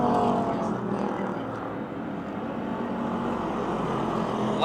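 Stock cars racing at Motordrome Speedway, including a Buick Regal and a Chevrolet Malibu, a continuous loud engine roar from the pack that swells and eases slightly as cars pass, with a race announcer faintly talking underneath.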